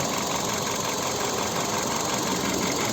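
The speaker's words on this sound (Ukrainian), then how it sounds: "Ось робота двигуна." A 2008 VW Cross Polo's 1.6-litre petrol 16-valve engine runs at a steady idle, a close, continuous even hum with fine rhythmic ticking and no voices.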